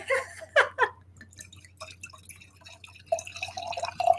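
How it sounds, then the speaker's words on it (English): Wine poured into a glass at home, a few splashy glugs at the start followed by a lighter trickle and faint clinks, close and fairly quiet with no talking. "it's time to refill the wine glass"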